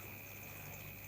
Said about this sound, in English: can see the water going over the fall there now